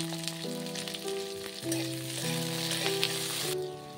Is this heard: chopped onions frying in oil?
yes